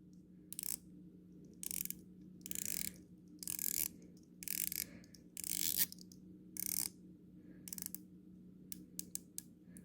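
Rapid ratcheting clicks of a dive watch bezel being turned come in short bursts of several seconds each, separated by pauses, close and crisp against a faint background hum.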